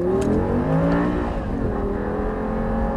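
An Audi R8 engine revs up and accelerates steadily on the Lyon circuit, its rising harmonic whine loud and close, continuous for a few seconds.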